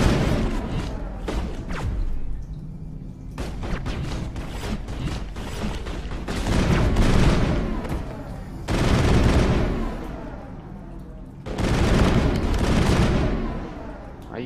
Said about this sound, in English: She's using the shotgun.